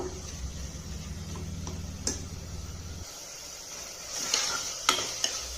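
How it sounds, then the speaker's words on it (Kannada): Sprouted horse gram masala spices roasting in a pan give off a soft sizzle with a scraping spatula and a few sharp clinks against the metal, the low hum dropping away midway. "ಇದನ್ನು ಕೂಡ ಚೆನ್ನಾಗಿ ಹುರಿಬೇಕು"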